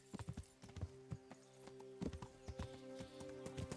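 Horse hooves clip-clopping in the medieval video game Kingdom Come: Deliverance, an uneven run of close, distinct hoof strikes with a steady low background drone and no talking.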